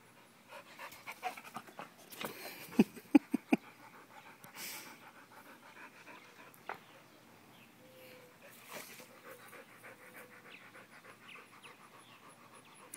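A dog pants heavily and close by during a fetch game, with quick rhythmic breaths in short bursts, a few louder huffs, and quieter stretches of breathing between.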